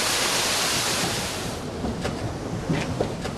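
Water pours onto a wheel that drives a 200-year-old water-powered trip hammer used to forge cauldrons. It makes a steady, loud broadband rush that eases slightly partway through, with faint clicks and knocks toward the end.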